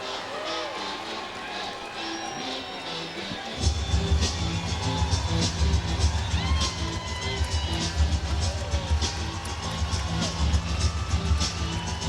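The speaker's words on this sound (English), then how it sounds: "Wow, what a reception from the crowd." A crowd cheers and roars as a fighter enters at a King of the Cage 52 mixed martial arts event. The noise is steady and loud, and heavy, booming entrance music cuts in partway through under an announcer's voice.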